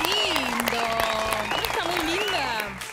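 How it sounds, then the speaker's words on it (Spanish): A studio audience on a cooking show applauds a guest during a carrot cake segment. The clapping runs under loud music and voices and fades slightly near the end. "Un aplauso de para Marianita."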